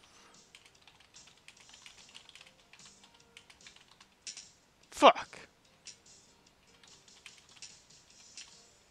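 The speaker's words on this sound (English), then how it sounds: "Oh no, I'm not used to typing semicolons!" Keys clatter on a computer keyboard during a Mavis Beacon typing test, a light irregular patter with one sharp loud burst partway through, as a voice speaks and swears over the clicking.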